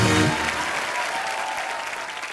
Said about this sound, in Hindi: जोरदार तालियां नेहा के लिए।